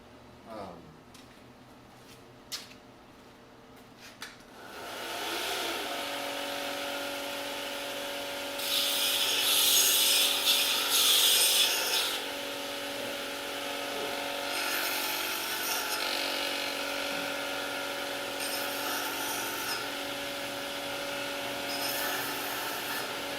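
A blacksmith's punch tip is dressed on a power tool: after a few faint knocks, a motor spins up and hums steadily, with louder abrasive grinding bursts over it.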